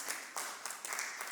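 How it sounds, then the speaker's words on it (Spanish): A small audience at a book presentation gives brief applause in short bursts of clapping, fairly soft and lasting only a moment. "Eso merece un aplauso."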